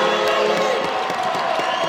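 An arena crowd at a men's world floorball championship match, Sweden against Norway, roars and cheers after Norway's first goal, a dense, loud, sustained wall of voices with scattered whoops.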